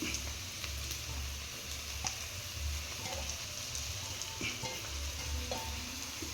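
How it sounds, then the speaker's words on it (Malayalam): Minced beef, ground in a mixer for a broasted samosa filling, sizzles and fries steadily in a pan, with a continuous close crackle and soft stirring and no voices. "ആ ബീഫ് ഇതിലേക്ക് ഇട്ട് കൊടുക്കുക."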